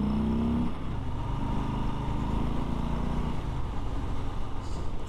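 A 2019 Harley-Davidson Street Bob with the 107 engine accelerates in first gear from about 20 mph, its deep engine note rising in pitch under throttle, then dropping as it shifts up, close and loud throughout.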